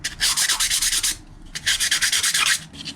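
An aluminum carburetor part for a mini dirt bike is rubbed with 800 grit sandpaper, giving close, loud rhythmic back-and-forth rasping strokes in two runs separated by a short pause.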